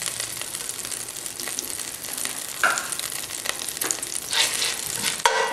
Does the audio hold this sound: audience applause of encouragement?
no